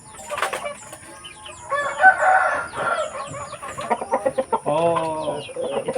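Native chickens on a rural farm cluck and crow in a lively jumble, with a rooster's calls and some wing flapping, fairly close, no speech.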